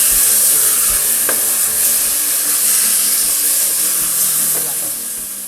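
Pork browning with sugar in a pot for Dominican locrio, a loud, steady sizzle and hiss close by with a few faint stirring knocks, easing slightly toward the end.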